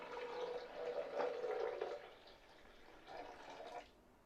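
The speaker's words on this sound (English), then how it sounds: "The first thing to do is pour in hot water about halfway." Hot water poured into a Vitamix blender container, a soft, close splashing pour that rises for about two seconds, then eases and returns briefly in a second burst near the end.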